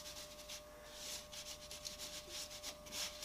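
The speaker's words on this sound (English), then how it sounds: "Fair amount of fine facing sand to try and cover it all over." Fine facing sand showers over a tall casting pattern in a home foundry making Oakland car speedometer-drive parts, a soft, faint, continuous hissing rub with gentle pulses as the sand is sifted on.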